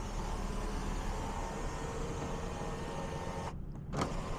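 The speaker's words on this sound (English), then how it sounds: "back here you have a powered sunroof. You can open it," A powered sunroof on a Toyota Granvia Q 3.4 V6 4WD minivan runs with a steady electric motor whine inside the cabin, ending with a brief pause and a final short whir as it stops.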